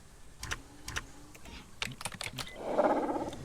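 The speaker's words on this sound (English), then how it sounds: "They make distinct noises. Vocalizations whenever you type." Dinosaur vocalization from the video game The Isle: a short, tonal roar-like call near the end, preceded by scattered sharp keyboard typing clicks.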